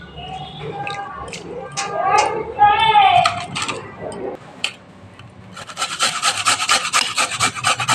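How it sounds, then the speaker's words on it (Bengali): A potato rubbed against a kitchen grater, with close, rhythmic rasping strokes building up steadily in the second half after some talking at the start. "আলুটা ঘষে নিচ্ছি।"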